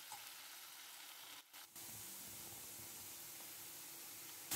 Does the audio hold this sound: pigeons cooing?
no